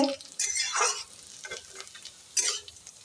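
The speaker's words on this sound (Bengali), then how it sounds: "আলু ভাজা একটু হচ্ছে" Potatoes fry in a pan with a soft, steady sizzle broken by a few scraping stirs and clattering bursts, close by and fairly quiet, with no talking.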